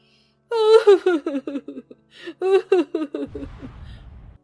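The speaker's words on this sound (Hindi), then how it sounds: "तभी उन्हें एक औरत की जोर जोर से रोने की आवाज आई" A woman wails and sobs loudly in two long bursts of shaky, falling cries with gasping breaks, close and alone, in an animated Hindi story.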